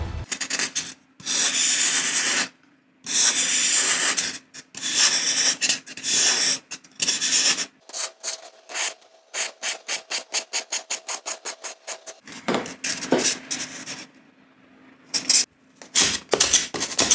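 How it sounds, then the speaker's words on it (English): A metal roller tears chunks out of scored craft foam for a textured tower build: loud, close rasping and scraping strokes come in bursts, with a fast run of short rhythmic scrapes in the middle and brief pauses between passes. "We will do this by making a grid of shallow cuts and then using a metal roller to tear out chunks of foam."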